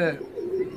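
An Iraqi hybrid tippler pigeon gives a single short, soft throaty coo, close by and heard on its own.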